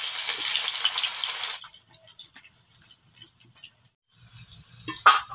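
Cauliflower pieces frying in hot oil give a bright, steady sizzle that dominates at first, then drops to a quieter crackle with a brief pause before flaring up again near the end.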